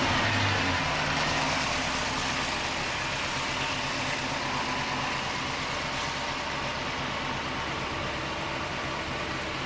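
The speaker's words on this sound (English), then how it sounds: "You can hear the engine sound super healthy." A V8 Dodge Charger engine idles steadily with a low, even rumble, moderately quiet and unchanging throughout.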